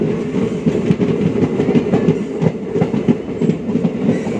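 A DEMU train rumbles along at close range near Srinivasapura station, its wheels clattering in a steady rhythmic clickety-clack over a loud, continuous low drone.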